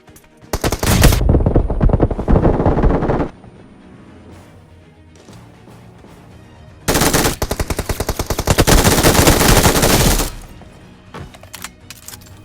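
Rapid automatic gunfire in a battle royale video game, two long loud bursts of closely spaced shots separated by a quieter gap with scattered single shots and game effects.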